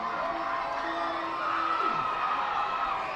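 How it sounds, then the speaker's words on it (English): A crowd roars at a minor league baseball game between the Harrisburg Senators and the Reading Fightin Phils, a steady wash of distant cheering that swells slightly partway through. "Crowd roaring here."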